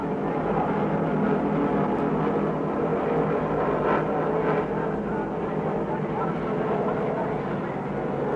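Stock cars, including a Chevy, race around the track at the 1968 Oswego International Classic, a continuous broad engine roar rising and falling from a distance under a race announcer's commentary.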